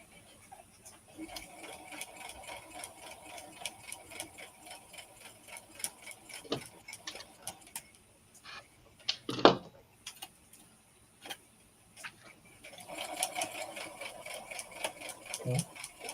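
A sewing machine stitches fabric coasters in irregular rhythmic bursts of ticking, with a few louder clunks, fairly close and moderately loud, with pauses between runs and occasional faint voices.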